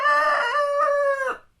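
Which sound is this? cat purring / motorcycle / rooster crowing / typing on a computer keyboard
rooster crowing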